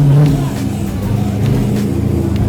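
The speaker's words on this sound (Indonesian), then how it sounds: "Ada mobil Akuma yang juga turun drifting." A Kingston FND Akuma drift car engine revs at the J99 Maxx drift circuit during an Indonesian Drift Series round, a loud, steady low drone with surges, heard alongside talking.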